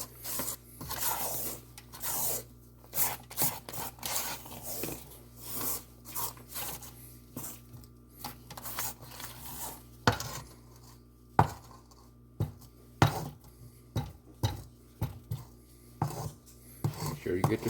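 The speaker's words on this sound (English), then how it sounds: "Scrape down before we add our last flour and our last milk." A spatula scrapes peppermint crunch pound cake batter down the sides and bottom of a mixing bowl, a series of soft, uneven scraping and tapping strokes close by, with quiet talk in between.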